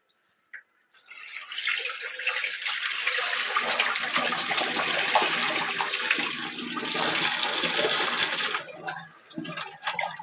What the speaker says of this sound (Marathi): आता आपण यातलं पाणी ओतून देऊया